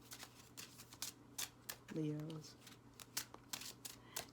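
A tarot deck being shuffled close up, with quick papery riffles and card snaps repeating in bursts, while someone speaks briefly over it.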